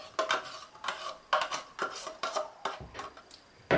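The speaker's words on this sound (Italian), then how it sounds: "Mescolo per incorporare la panna alla Nutella" A spoon stirs cream into Nutella in a bowl, making a close series of rhythmic scraping strokes and light clinks against the bowl, about eight distinct passes in a few seconds, with no voices.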